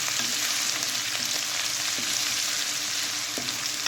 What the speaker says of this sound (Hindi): इसको खूब अच्छी तरह भूनेंगे कि लहसुन का कच्चापन ख़त्म हो जाए।